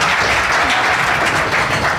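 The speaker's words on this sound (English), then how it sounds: "Let's have a round of applause for our recruiters." Audience applause for recruiters at the close of a recruiting event day, a steady, dense wash of clapping filling the room throughout with no talk over it.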